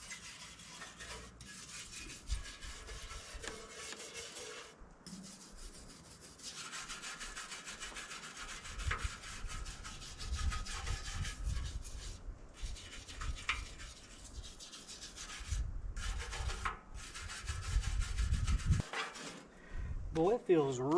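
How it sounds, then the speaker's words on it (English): Dirt is scrubbed off the battery tray of a 545A backhoe with a brush, giving close, irregular scratchy rubbing strokes that swell and pause through the stretch, with occasional faint taps. "most of this dirt's just brushing right off of here"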